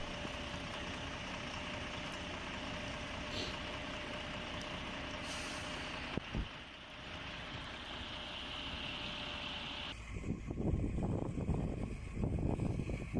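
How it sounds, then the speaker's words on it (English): A heavy tow truck works on an icy winter road in remote northern Russia, its engine a steady low drone with a brief air-brake hiss midway, then rougher, louder rumbling as it pulls the stuck truck. "the tow truck gradually pulled the Latvian vehicle back onto the road"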